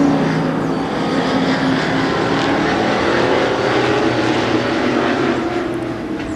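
A pack of short track race cars rumbles past together in a steady, loud, continuous engine roar with a low droning tone and no talk.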